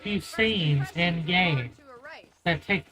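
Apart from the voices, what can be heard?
No everyday noises stand out.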